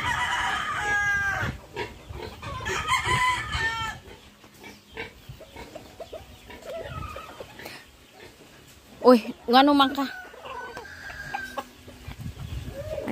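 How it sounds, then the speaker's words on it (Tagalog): Chickens at a Filipino family home cluck and a rooster crows over lively nearby chatter, with one sharp squawk or crow rising mid-clip and voices continuing throughout. "Ito, mga manok na to."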